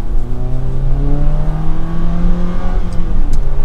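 A 2022 Jeep Compass Limited 4X4 engine accelerates steadily, its pitch climbing smoothly as the revs rise, loud and close, with a brief shift near the end.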